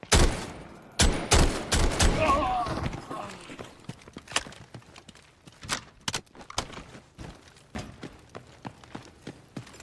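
Delta Force gunfire close to barracks: a dense opening volley of loud cracks, then scattered single shots and short bursts at varying distances, with voices talking over the firefight.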